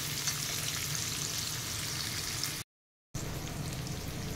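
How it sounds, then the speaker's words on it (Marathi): Chopped onion sautéing in a pan as it browns, giving a soft, even sizzle with crackling, broken by a brief moment of silence before the frying resumes. "कांदा थोडासा रंग बदलेपर्यंत परतून घेऊया"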